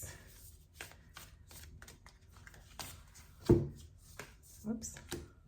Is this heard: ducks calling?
no